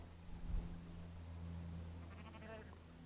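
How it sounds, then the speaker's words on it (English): A sheep bleats once on Dartmoor, England, not very loud and somewhat distant, over a low steady hum of wind or background noise. "And yes, the obligatory Dartmoor sheep."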